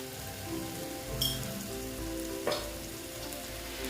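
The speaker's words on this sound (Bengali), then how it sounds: "পোস্তগুলো দিয়ে দিচ্ছি পোস্তটা আমি ভেজে নিচ্ছি তেলটার মধ্যে" Poppy seeds frying in white oil in a pan, a soft steady crackling sizzle with faint intermittent pops and clinks, close and quiet with no talking.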